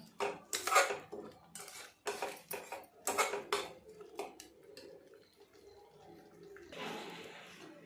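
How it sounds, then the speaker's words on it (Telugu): Spoon scraping and clinking against a pan while egg masala curry is stirred, a quick run of close metallic knocks, then quieter shuffling and a soft rustle as a lid goes on the pan. "దీన్ని కలిపేసి లిడ్ పెట్టి ఒక పది నిమిషాలు ఉంచుదాం"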